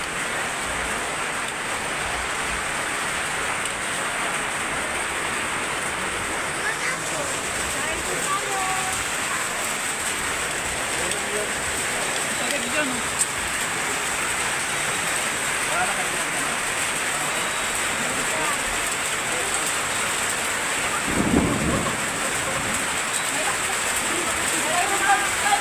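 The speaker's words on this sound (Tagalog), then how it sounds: "umulan na sa Baguio" Steady rain pours down in Baguio, a constant broad wash of falling water that runs without a break beneath people talking.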